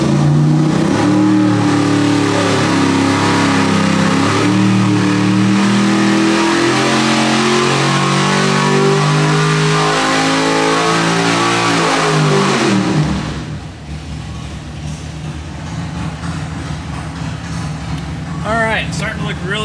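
A 1,000hp 632 big block Chevy engine roars on a dyno, its pitch climbing steadily under load before it drops abruptly to a lower, rumbling idle. Speech runs over the engine noise.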